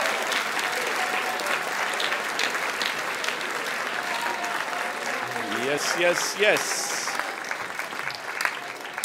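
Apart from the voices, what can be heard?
audience applause for the Jazz Ensemble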